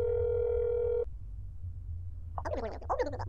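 A steady telephone dial tone from the game That's Not My Neighbor, loud and unbroken for about a second before cutting off, leaving low background rumble and then a voice talking.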